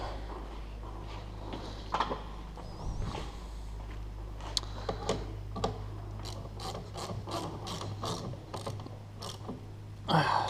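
A hand ratchet clicks in bursts of rapid pawl ticks, close and clear, while tightening a loose part on an Abarth Punto Evo, with pauses and light metallic handling between strokes over a steady low hum.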